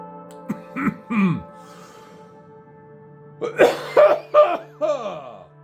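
Several harsh coughs, a pair early on and a louder cluster of three or four later, separated by a quiet pause with a faint hum.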